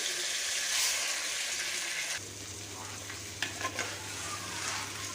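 Chillies and dal roasting dry in a pan for sambar give a steady, close sizzle with stirring scrapes; the hiss eases partway through as a low hum sets in, with a few sharp clinks of the spoon.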